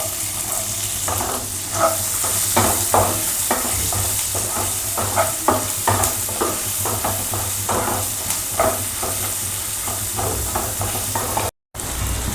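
Chopped onion frying in hot oil with cumin seeds and bay leaf, a steady loud sizzle broken by repeated scraping stirs of a spatula in the pan.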